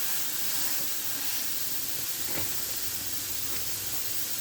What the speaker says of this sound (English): I always put it in for 5 minutes and before I break it up. That way it gets a nice sear on there to start with.